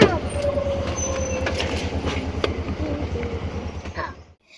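An auto rickshaw idles close by with a rapid, throbbing engine putter, while a voice speaks briefly over it before the engine cuts off near the end.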